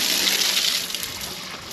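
Water poured steadily into a garden container for a container garden, a loud, close, continuous gushing splash that eases slightly toward the end, with no voices.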